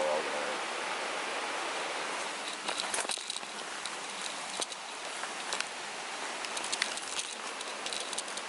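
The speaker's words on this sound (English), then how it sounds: "there's the weir, with a huge old fallen tree that's been there for a couple of years now, blocking the whole thing" Water pouring steadily over a river weir partly blocked by a large fallen tree, a constant broad rushing wash at moderate distance with faint scattered patter and clicks on top.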